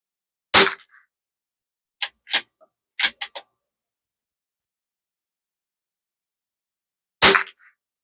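Five rifle shots fired to foul the barrel, loud sharp cracks spaced irregularly with silence between, a lone shot, then a close pair, then another pair, and a final shot after a long pause.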